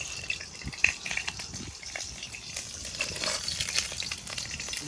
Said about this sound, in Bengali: আগে শুকনো লঙ্কাটা দিয়ে দিই তেলের মধ্যে।